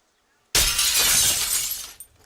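A glass-shattering sound effect set off by a button for a foul ball at a high school baseball game, a sudden loud crash of breaking glass that bursts in and rings for about a second and a half before cutting off.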